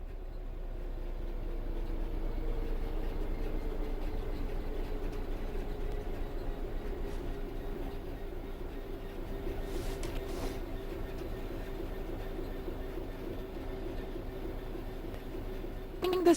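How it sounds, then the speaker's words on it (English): Train Sim World 3 locomotive coasting on level track with the throttle closed: a steady low rumble and hum of wheels on rails, constant and fairly quiet throughout, with no voices. "The train will then coast on level ground, and the train will only slow down very gradually."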